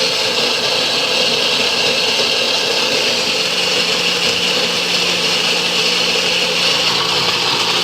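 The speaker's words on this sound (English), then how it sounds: "I have got the blender all together now. I have my ingredients in here for my ice cream." A blender mixing low-carb ice cream ingredients whirs loudly and steadily, its motor droning without pause the whole time.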